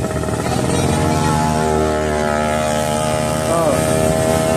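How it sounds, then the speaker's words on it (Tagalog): A loud, continuous roar of motorcycle engines as a stream of bikes rides past on a mountain road close to the microphone, with wind buffeting and a voice speaking over it. "Sunod-sunod po ang dami po nilang mga motor."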